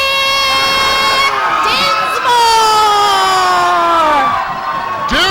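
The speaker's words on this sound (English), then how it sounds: "you hear the crowd response to these two young guns" A wrestling crowd at a 1998 OVW TV event cheers and whoops for a tag team, loud sustained shouting with children's voices, swelling midway under a commentator's talk.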